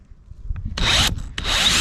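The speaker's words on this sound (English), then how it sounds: "I've set the top here, the chuck, so that it will stop when I drill these in" Power drill driving roofing screws into OSB sheathing for a metal roof, two loud sustained whirring bursts close by, a brief tap before them and a short gap between.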